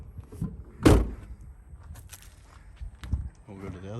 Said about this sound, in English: So I'll shut those doors.